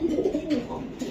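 Racer pigeons coo in a low continuous throaty murmur, close and fairly loud, with a pair of birds scuffling and fighting nearby.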